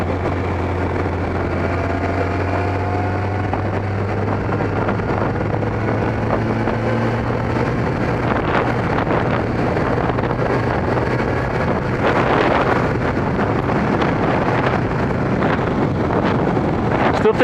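Steady, loud wind buffeting the microphone on a Kawasaki ZX-12R sport motorcycle ridden on a sunny, slightly windy summer afternoon. A droning engine tone runs underneath the whole time, with gusts rising and falling.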